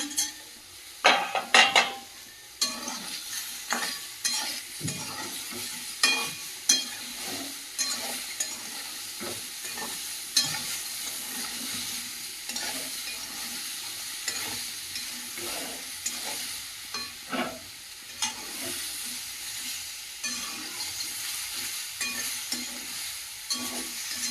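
Vegetables with fried lentil dumplings sizzle in a pan while a spoon stirs and scrapes against the metal in repeated clanks, loud and close throughout.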